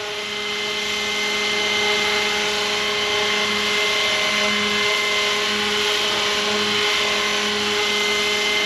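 A scale Roban 600-size Hughes MD500 RC helicopter spins at high RPM, its loud, steady whine and buzzing rotor drone holding constant near the microphone, with a faint pulsing wobble underneath.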